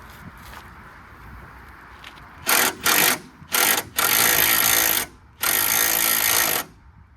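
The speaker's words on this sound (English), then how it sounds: "I'm gonna have to do the Sawzall on it" Sawzall reciprocating saw cutting a truck frame during a 1994 Chevy S10 to 1958 GMC 100 frame swap; several loud buzzing bursts, two short then longer steady runs, close up with brief stops.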